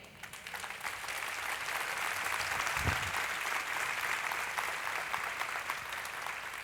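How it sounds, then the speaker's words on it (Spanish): A church congregation applauds after a sermon by a pastor, a sustained wash of clapping from many hands, fairly distant and even throughout. "Gracias por el aplauso"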